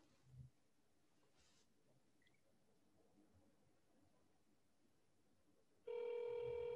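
A faint thump, then near silence before a steady electronic ringing tone starts and holds, thin as if heard through a phone speaker.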